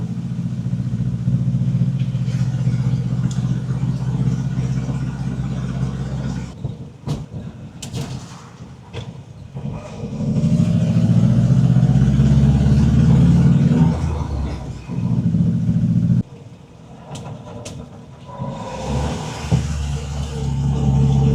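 Peugeot 403 engine running in modern traffic, a low steady drone that drops away, then surges louder, with brief clunks and a later lighter passage.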